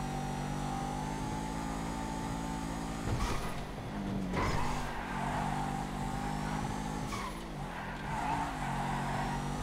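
A Massacro sports car in Grand Theft Auto races along with a steady droning engine hum, punctuated by a few brief tire squeals and skids as it corners.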